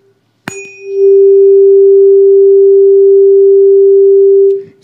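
An air column in a resonance tube experiment sounding its loud resonance tone: a sharp strike, then a pure, steady hum that swells to full loudness, holds for several seconds and stops, with no voices.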